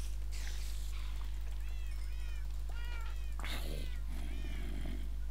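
Several cats meowing repeatedly in the Minecraft video game, a cluster of overlapping high mews over a steady low game hum, with a brief burst of noise midway.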